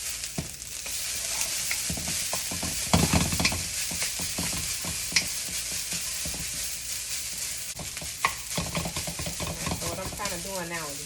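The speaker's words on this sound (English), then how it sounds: "So what I'm kind of doing now is browning the rice." Rice browns in a hot wok for shrimp fried rice under a constant loud sizzle, with intermittent scraping and tossing strokes close by and a brief voice near the end.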